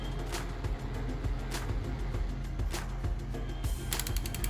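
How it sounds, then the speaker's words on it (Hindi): A small rechargeable electric fan whirs steadily up close, its motor hum carrying faint mechanical clicks and rattles throughout. "पंखे की आवाज भी देखिए कितनी बढ़िया है।"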